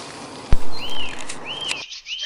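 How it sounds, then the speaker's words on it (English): Garden birdsong near a horse chestnut tree at the edge of a wood: a few clear rising chirps and sweeping whistles repeat over a soft outdoor background, punctuated by a brief thump. "hope you can hear me over the bird song"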